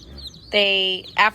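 Jumbo Cornish cross meat chicks chirping in a box, two loud, close, sustained peeping calls in quick succession over a quiet background.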